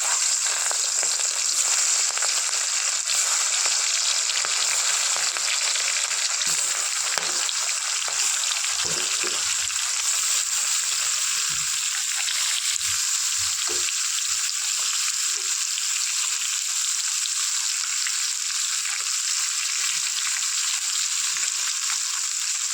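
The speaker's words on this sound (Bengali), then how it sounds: "এবার দেখো চিংড়ি মাছটা ভাজবো, সর্ষের তেলটা ছিল না, সেই জন্য সাদা তেলে করছি" Prawns frying in white cooking oil for a prawn malai curry, a loud, continuous hissing sizzle that holds steady throughout, with occasional soft stirring underneath.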